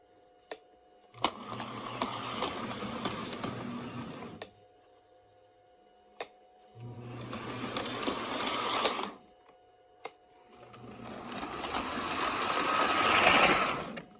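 A model train runs along an oak-scale track after being powered up, giving three bursts of steady mechanical whirring and rattling, each a few seconds long, separated by short pauses.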